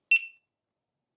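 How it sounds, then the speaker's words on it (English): A DJI Action 5 Pro action camera gives a single short, high electronic start-recording beep, clean and close, followed by silence. "You just get a single beep"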